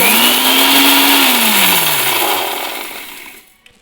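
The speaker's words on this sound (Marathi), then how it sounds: "हे सर्व मिश्रण आपण मिक्सरमध्ये काढून घेणार आहोत" An electric mixer grinder whirs loudly at high speed grinding a spice mixture, then its motor pitch drops and winds down to a stop near the end.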